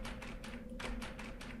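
Knocking on a door in the horror video game Scratches (Director's Cut), a series of about seven light, quick raps at an uneven rhythm over a steady low background hum, with no talking.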